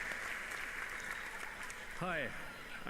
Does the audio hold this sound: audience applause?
yes